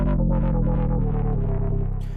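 A thick, buzzy Shed Synth sample played in a Patchworld sampler sustains for about two seconds with a gritty, distorted, chorused texture, pulsing slightly before fading at the end.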